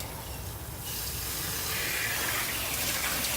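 Water from a hose feeding a caravan wash pole starts as a thin trickle, then swells into a loud, steady hissing gush that runs on to the end, close by with no talk.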